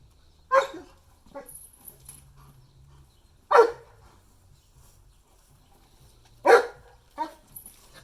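A single dog lets out three loud, well-spaced barks close by, with a few softer yips and whines between them in an otherwise quiet room.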